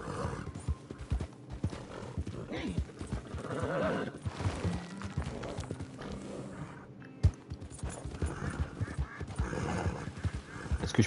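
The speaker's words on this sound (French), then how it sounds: "Bon, le cheval, ce serait bien de se bouger," A horse gallops in the video game Red Dead Redemption: steady, close clip-clop hoofbeats run throughout, with a neigh and a few sharp knocks over a low background.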